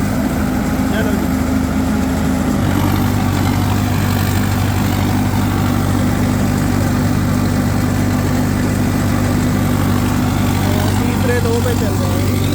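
A Mahindra 585 XP Plus turbo tractor engine runs loud and steady nearby, a constant low diesel drone with a slight shift in tone early on.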